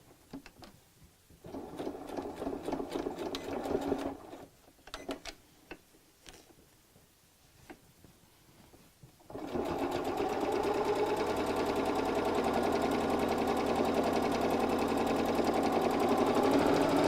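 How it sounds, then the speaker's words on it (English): A sewing machine stitches a purse being fitted to a frame, starting with short stop-start runs of needle clatter, then settling into a long, loud, continuous stitching run, close and without speech. "now we're going to sew from the end of the stitch line that I've just finished around the top all the way around the bottom"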